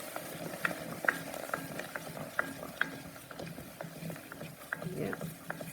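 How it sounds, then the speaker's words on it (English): Hot pasta cooking water, about three cups, poured into a roux in a pot, a soft steaming sizzle and bubbling with faint clicks and scraping of stirring, under a nearby voice talking. "It had 3 cups of water, and I am adding that to my roux."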